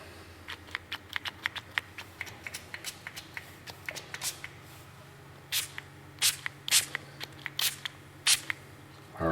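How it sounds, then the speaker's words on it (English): Froglube chemical sprayed onto metal in quick bursts of hissing spray, some short and rapid, others longer and spaced apart, close and fairly loud. "Make sure we got our spray out."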